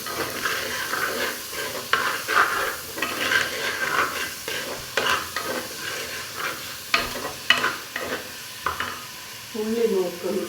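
Green chillies and onions fry in a pan for a beef curry, with steady sizzling broken by repeated scraping stirs of a spoon against the pan, loud and close throughout.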